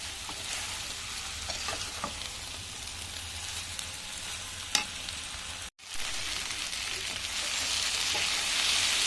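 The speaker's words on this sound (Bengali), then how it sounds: "এবার আমি সব কিছু একসাথে ভালো করে কষিয়ে নেব।" Vegetables and soybean chunks are stir-fried together in a pan with ginger, cumin and green chilli paste, giving a steady close sizzle with scattered scraping stirs, a brief break partway through, then the frying grows a little louder.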